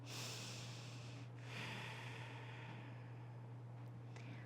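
Quiet nasal breaths during a core yoga flow: a long, airy inhale and exhale over a low steady hum, soft and close, with no talking.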